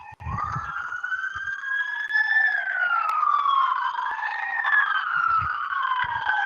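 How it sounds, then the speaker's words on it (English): A wailing ambulance siren sweeps up and down steadily, fairly loud and close as it passes, with faint low thumps underneath. "We've got a ambulance coming through here."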